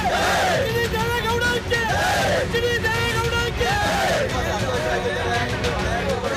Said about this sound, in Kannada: ಪರಪ್ಪನ ಅಗ್ರಹಾರದ ಎದುರು ಅಭಿಮಾನಿಗಳು ಸಂಭ್ರಮಿಸಿದ್ದಾರೆ